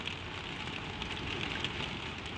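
Gentle, steady rain falls in an even, soft hiss with faint patters on a surface, quiet and continuous, with no other sounds.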